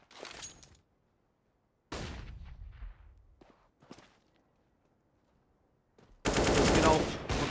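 Gunfire from a CZ pistol in a Counter-Strike match on Dust 2, with a few sharp shots separated by gaps of near silence and then a dense, loud burst of rapid fire at the end.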